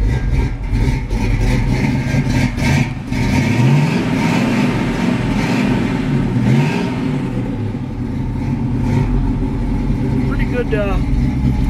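A 1968 Pontiac Firebird engine idles steadily on a hot day, a continuous low rumble with a faint mechanical whir throughout.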